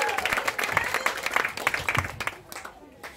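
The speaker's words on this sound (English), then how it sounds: "start clapping everybody, lift it up for Vanessa Larry Mitchell." An audience at a MardiGrass comedy show in Nimbin applauds, a fairly close burst of clapping that thins out toward the end.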